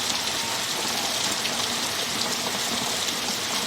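Heavy rain pours down outdoors over flooded ground and trees, a dense, loud, continuous hiss of falling water with no pauses or voices.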